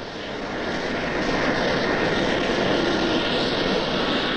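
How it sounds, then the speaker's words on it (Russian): Steady, loud roar of an aircraft in flight, carrying a D-36 turbofan engine slung under the fuselage of a flying laboratory plane, a continuous broadband drone that rises slightly at the start and then holds even throughout. "двигатель, подвешенный под фюзеляжем летающей лаборатории, уйдет на испытание в небо"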